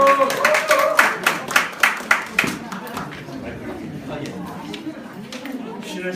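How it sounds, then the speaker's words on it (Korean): An audience at a community talk on cooperatives breaks into clapping, a dense burst of applause whose loud claps fade out after about three seconds into murmuring and room noise. "박수로 맞아주십시오"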